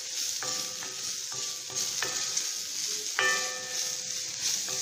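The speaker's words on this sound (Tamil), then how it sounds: "இப்போ நல்லா வருந்துச்சு, நல்லா ஃப்ரை பண்ணியாச்சு." Ivy gourd pieces fry with sambar powder in a pan, giving a steady soft sizzle broken by several sharp metallic clinks of a spoon stirring against the pan.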